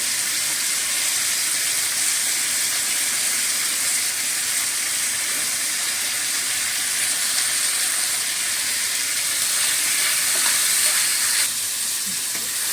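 Curry leaves sauté in a pan with softened tomato for a broken wheat lapsi dosa, giving a steady, close, loud sizzling hiss that runs continuously without speech.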